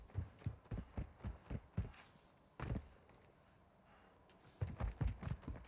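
Footsteps in a crossbow-focused video game: a run of evenly spaced, sharp steps, a pause with one heavier thud, then another burst of quick steps, fairly close and with no voices over them.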